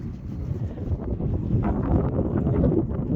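Strong outdoor wind buffets the microphone in a loud, low, rumbling roar that swells and gusts steadily, with no speech.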